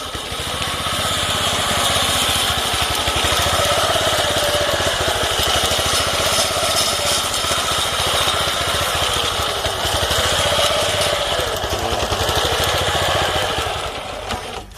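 The Mitsubishi engine of an old Japanese walk-behind greens mower with a 24-inch cutting width drones steadily and loudly at close range for the whole stretch, with a constant buzzing hum and no pauses.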